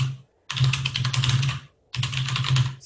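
Someone types notes on a computer keyboard during a development meeting, producing two close bursts of rapid clicking with a short pause between them and no talking.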